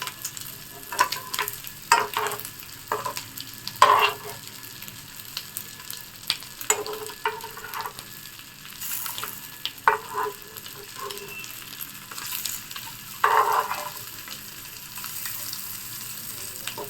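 Eggs frying on a tawa, a steady low sizzle broken by repeated scraping and stirring clatters of a spatula, close and fairly quiet with no talk.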